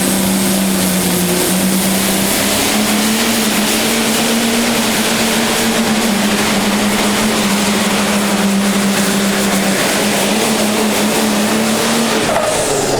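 Pro stock pulling tractor at the Scheid Diesel Extravaganza, its diesel engine roaring loud and close in a sustained, steady drone throughout, with no voices.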